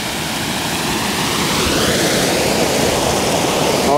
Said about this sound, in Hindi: It's a beautiful waterfall here.